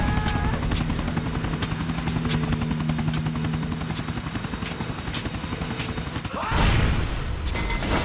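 A helicopter in Grand Theft Auto IV gives a steady, loud rotor thrum throughout, with scattered gunfire cracks over it and a burst of crashing noise near the end.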